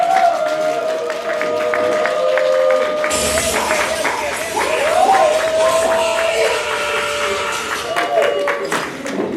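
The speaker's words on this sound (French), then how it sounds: "Madame Cléance, applaudissez pour elle s'il vous plaît." Crowd applause and cheering at a surprise sixtieth birthday party, clapping swelling abruptly after a few seconds with whoops and shouts over a tonal background of music or voices.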